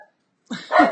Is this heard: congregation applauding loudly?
no